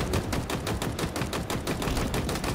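Gunfire from the video game Halo Infinite, landing headshots: a rapid, even stream of sharp shots, about eight per second, loud and continuous for the whole stretch.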